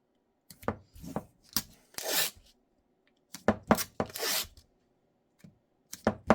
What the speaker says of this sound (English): So let's go ahead and throw some tape on here.